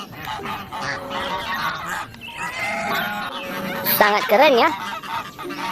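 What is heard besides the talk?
goose honking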